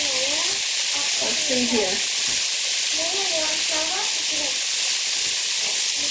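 Vegetables seasoned with pepper sizzle in a pan for beef stew, giving a steady broad hiss throughout, close and fairly loud, with someone speaking briefly over it.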